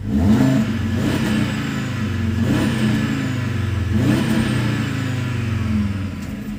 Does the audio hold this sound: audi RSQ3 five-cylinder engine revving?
yes